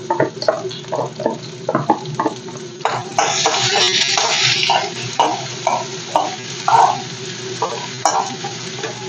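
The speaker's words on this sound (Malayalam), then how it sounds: "ഇഞ്ചി വെളുത്തുള്ളി കൂടി ഞാൻ ഒന്നിച്ചിടുവാണ്" Ginger and garlic fry in a pan for lemon pickle, a close sizzle with repeated stirring scrapes and clinks that swells into a louder hiss midway, no talk.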